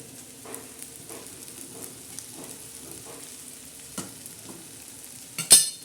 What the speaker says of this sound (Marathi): आता आपण चांगली खिचडी हे हलवून घेऊ